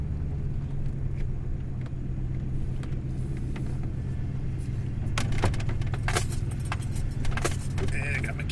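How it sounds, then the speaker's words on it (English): Keys jangle and clink in irregular bursts inside a moving car, over a constant low engine and road rumble, becoming busier in the last few seconds. "Keys flopping around here."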